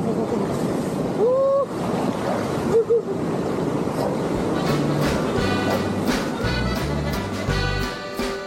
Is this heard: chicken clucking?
no